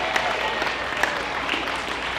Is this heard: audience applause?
yes